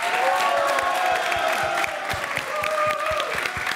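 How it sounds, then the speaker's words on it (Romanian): A studio audience on the Romanian game show Roata Norocului cheers and applauds a contestant, a loud, continuous crowd roar with clapping and whoops over music. "vă rog să-l aplaudați tare pe Mihai"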